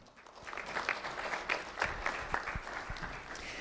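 Applause for a young award recipient at a sheriff's office ceremony, light scattered clapping from a small audience, fairly faint with a few sharper nearby claps standing out.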